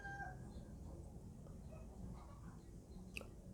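Backyard chickens cluck and murmur softly at a distance, with a few brief squawks over a low, busy background and one sharp high note near the end.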